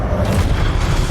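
A Confringo fire spell explodes in Hogwarts Legacy, giving a loud, dense low boom that fills the whole short moment with no pause.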